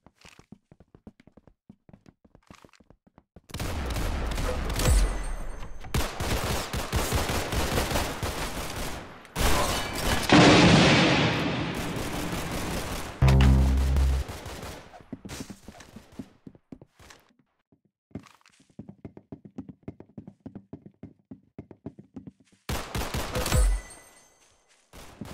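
Gunshots ring out in the Roblox game Arsenal, rapid bursts of fire in several separate clusters with brief quiet gaps between them, loud and close.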